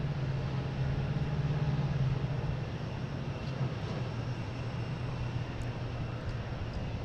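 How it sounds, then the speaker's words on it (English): A steady broadband engine roar carries through at Boston Logan International Airport as a Cape Air plane takes off, with a low tonal hum underneath that fades slightly partway through. "Got a Cape Air just taking off behind it"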